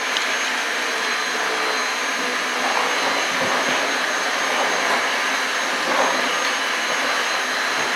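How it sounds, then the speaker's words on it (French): A vacuum cleaner runs indoors in a room where puppies are raised, giving off a steady, loud whine and rushing drone that holds for about eight seconds with no voices. "L'aspirateur, hein, c'est pourtant un stimuli qu'on travaille depuis qu'ils sont tout bébés"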